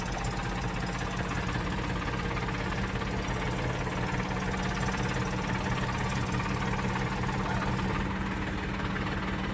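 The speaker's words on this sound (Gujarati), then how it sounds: "અને હવે આપણે ટ્રેક્ટર કાઢશું" A tractor engine rumbles steadily at low revs as a JCB pulls the tractor, its tyre sunk deep in mud, out of the mire, a continuous droning idle with no voices.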